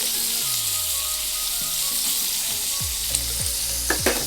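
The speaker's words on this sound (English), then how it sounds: "So just slowly begin to baste that steak." Steak fries in olive oil and butter while being basted, a loud continuous sizzle with occasional spoon scrapes and clinks against the pan near the end; no one speaks.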